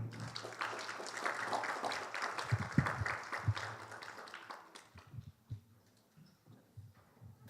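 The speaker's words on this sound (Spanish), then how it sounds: "Vamos a dejar al doctor, pero no sin antes recibirlo con un fuerte aplauso, por favor." An audience at a legal seminar gives a round of applause, a soft, dense patter of clapping that lasts about five seconds before thinning to scattered claps.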